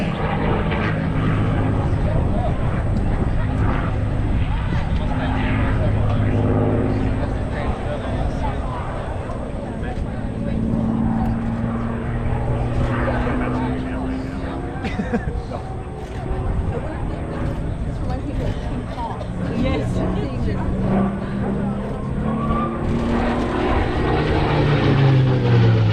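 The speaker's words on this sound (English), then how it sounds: "and the P-51 Mustang." A P-51 Mustang propeller fighter flies at an airshow in Orange County, New York. Its engine drones loud and continuous with shifting pitch as it passes, under the announcer's voice speaking over the public address.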